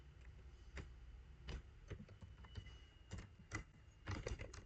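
Light, sparse taps on a computer keyboard, irregular single keystrokes and short clusters, faint and close against a quiet low hum.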